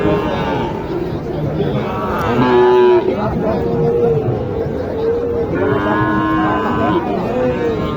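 Several cattle, including Sahiwal bulls and calves, moo repeatedly amid a busy crowd at a cattle market, with people chattering and talking nearby throughout.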